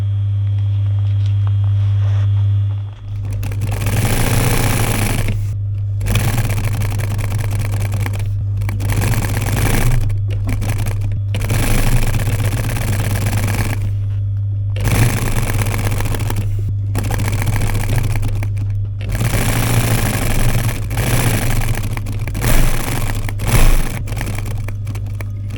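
Domestic sewing machine stitching piping onto a diamond-stitched campervan cushion cover, running in repeated bursts of steady mechanical whirring separated by short pauses, close and alone over a constant low electrical hum.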